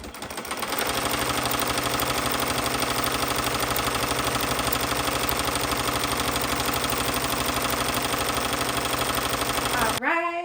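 An embroidery machine stitches a neckline design on a sweatshirt, a loud, steady, rapid mechanical chatter running continuously for about ten seconds before stopping abruptly at the end.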